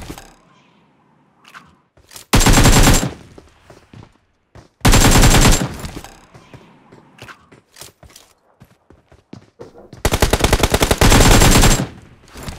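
A silenced SMG fires in PUBG Mobile. Three loud, sustained bursts of rapid automatic fire are separated by quieter stretches of scattered clicks and footstep-like taps.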